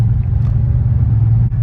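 Deep, steady rumble of a 1993 Ford Mustang Cobra turbo Foxbody engine while driving, loud and close from inside the car, holding a constant low growl with a brief dip near the end.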